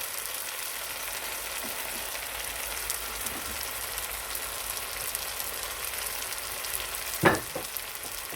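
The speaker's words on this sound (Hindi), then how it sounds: "अब हम इसमें डाल देंगे पहले से फ्राई हुई हुई भिंडी, और सारे मसाले" Pre-fried okra with softened onions and spices sizzles steadily in a pan, a soft, even crackle like light rain, with one brief sharp clink of a utensil near the end.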